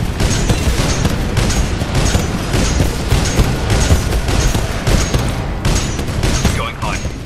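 A titan's Flight Core rocket barrage in Titanfall 2: a dense, loud, continuous run of rapid booming blasts and explosions lasting several seconds, with voices mixed in.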